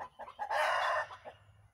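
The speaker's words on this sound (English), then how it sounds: "Chickens." A nearby rooster crows loudly, a single drawn-out call flanked by softer clucking from chickens.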